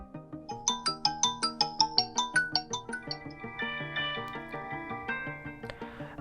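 A Redmi 14R 5G phone ringtone preview plays alone: a bright melodic chime of quick repeated tones, then a layered, fuller run of notes at moderate volume.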